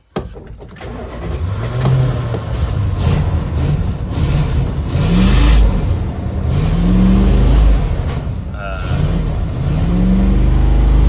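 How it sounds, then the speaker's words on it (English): A V8 van engine with an almost dead battery cranks and catches on a cold start, then idles roughly with uneven revving and sputtering, as if not firing on all cylinders, loud and close throughout. "That does not sound like 8 cylinders to me."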